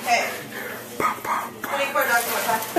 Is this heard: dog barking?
yes